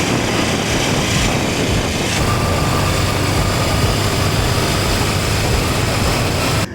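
A BMW F450GS motorcycle engine idling gives a steady, unbroken low rumble with a broad mechanical hiss, fairly loud and near, holding evenly until it cuts off at the end.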